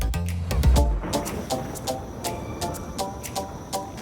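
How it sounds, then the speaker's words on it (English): A Netstal CD replication injection molding machine runs in a plant fed with optical-grade polycarbonate pellets, giving a low hum under a repeating series of sharp mechanical clacks and ticks at a fairly steady rhythm. "This is the Netstall CD replication injector."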